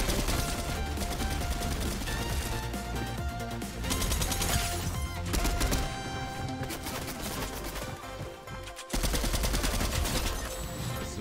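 A gun in Fortnite fires rapid automatic bursts, loud and close, with dense repeated shots running almost continuously and brief pauses between volleys.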